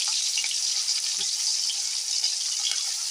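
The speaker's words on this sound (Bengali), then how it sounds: "তেল দেওয়া হয়ে গেল এখন পেঁয়াজগুলোকে দিয়ে দেব" Onions tipped into hot oil in a pan give a steady, fairly loud hiss of frying that carries evenly throughout, with a few faint clinks and no talking.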